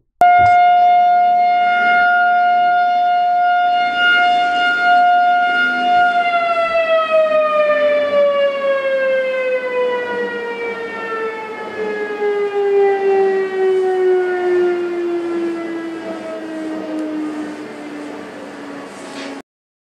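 A civil defense siren sounds alone and loud, holding a steady tone for several seconds before winding down in a long, smooth falling glide with strong harmonics.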